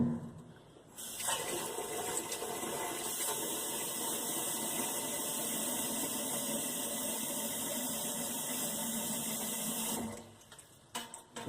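Tap water runs steadily into a cooking pot while making chili, a loud continuous rushing stream lasting about nine seconds before the flow stops, with no talking over it.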